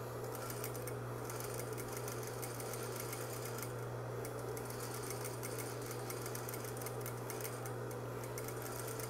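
Sewing machine under-stitching fabric close to a lining seam, its motor humming in a steady continuous run with a fine rapid needle rattle, close and quiet.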